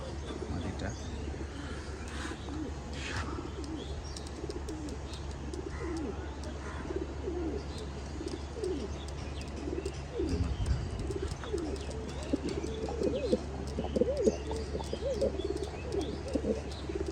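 Pakistani highflyer pigeons offered for sale coo softly and continuously nearby, with a low, steady hum underneath.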